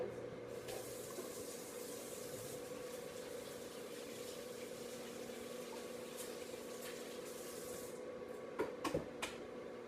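Hands being washed under a running kitchen tap, a steady broadband water rush that flows without a break and ends in a few clunks and splashes.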